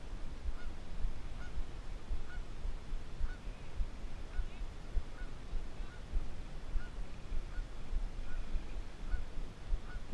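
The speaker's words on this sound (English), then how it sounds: "Hear that goose? She's mad at me because there's a nest over here, must be." Goose near its nest honking angrily by the water, a series of repeated faint honks at a steady pace, somewhat distant, over a loud blustery outdoor background with no talk.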